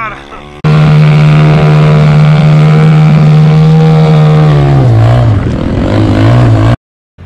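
A mini speedboat powered by a Kawasaki engine roars loudly across the water at steady high revs, pitch dipping and wavering near the end before cutting off abruptly; voices shout nearby.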